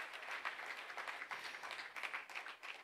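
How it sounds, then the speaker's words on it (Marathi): An audience at an award ceremony gives a faint, distant round of applause, a dense and even patter of clapping heard from far away. "जोरदार टाळ्या व्हायला हव्यात."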